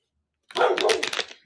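A dog barks indoors, a short burst of rapid, loud barks starting suddenly after silence and tapering off within about a second, close by.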